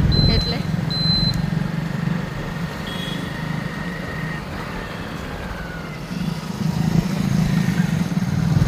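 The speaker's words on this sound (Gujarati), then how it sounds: "હવે બાઇક લઈને જાય છે" A motorbike engine runs in steady, continuous drone close by on a village ride, with faint high tones drifting over it and a swell in loudness toward the end.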